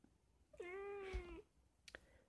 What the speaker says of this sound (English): And my cat, of course, has to be walking across again.